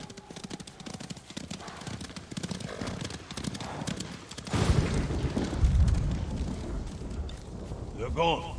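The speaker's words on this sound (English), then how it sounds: "Hear that? Horses!" Horses gallop past in Ghost of Tsushima, a steady clatter of hooves with a neigh, getting louder and nearer around the midpoint, under game dialogue and battle noise.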